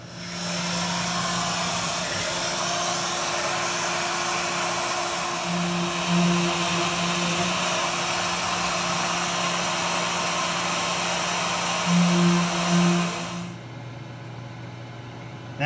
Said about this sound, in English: We're using the CNC router for this.